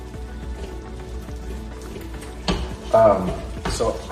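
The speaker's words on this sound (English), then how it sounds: "I'm stirring it, pulling everything off the bottom, pulling everything off the sides" Potatoes are stirred in a pan with a spatula, giving soft scraping and rustling with a faint sizzle, close, with a louder scrape and clatter near the end.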